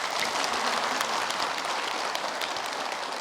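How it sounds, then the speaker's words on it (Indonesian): An audience at a religious talk show applauds in a steady, even patter of many hands, moderately loud and continuous throughout, with no clear voices on top. "Terima kasih, tepuk tangan deh."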